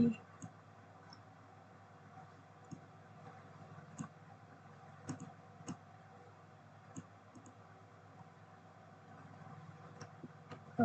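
Mouse clicks while drafting lines in SolidWorks CAD software, a series of sharp isolated clicks at irregular intervals over a low steady hum, faint and close.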